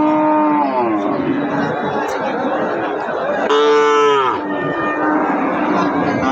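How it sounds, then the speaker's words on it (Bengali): Cattle moo loudly and close at a rural cattle market in Bagerhat, Bangladesh, with two long drawn-out lows, one opening and another near the middle, over a constant murmur of crowd chatter. "এই গরুগুলো কিন্তু তোমাদের সেই"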